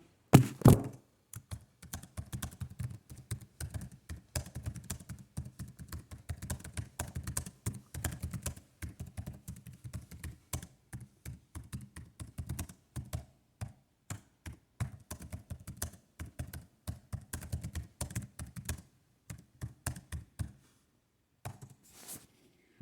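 Dense, steady keyboard clicks go on for about twenty seconds as notes are typed on a computer, close and moderately loud, then stop near the end.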